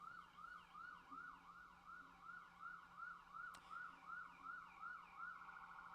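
An electronic wailing siren, a rapid repeating up-and-down yelp heard in a livestreamed stock-trading session, steady and moderately faint over a low hum with one brief click.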